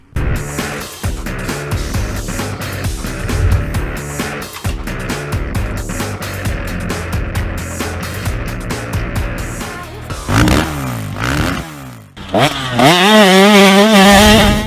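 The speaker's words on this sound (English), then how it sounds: "Check out this two-stroke beauty." A 2022 Yamaha YZ250 two-stroke motorcycle engine buzzes loudly and close, running at a fast, steady, crackly idle before being blipped into several sharp rising revs near the end.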